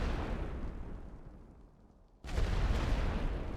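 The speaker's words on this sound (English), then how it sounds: "Okay, rolling barrage." Heavy rolling artillery barrage in a war video game, a dense continuous rumble of distant blasts that eases off briefly, then surges back louder and nearer.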